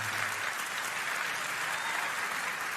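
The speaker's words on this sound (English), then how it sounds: "The whole audience is applauding." An entire audience applauds steadily, dense clapping holding at an even level throughout without a break.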